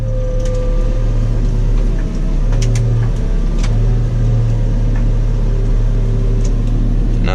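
A JCB telehandler's diesel engine runs loud and close while its boom is extended during harvest work, a steady low drone with shifting hydraulic whine and engine pitch changes as the boom moves.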